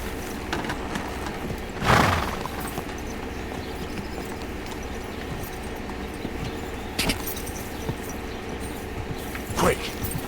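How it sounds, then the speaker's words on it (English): A horse's hooves clip-clop at a steady gait while the character rides in the medieval video game Kingdom Come: Deliverance 2. Soft rhythmic hoof beats and tack jingle run under a quiet ambience, with a few louder thuds and someone talking over it. "And riding a horse"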